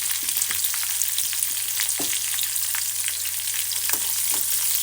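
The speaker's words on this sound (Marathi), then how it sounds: "हिरव्या मिरचीला हलकंसं फ्राय होऊ द्यायचं आहे" Green chilies fry lightly in a pan, giving a steady soft sizzle and hiss with occasional faint crackles and a light stir or tap.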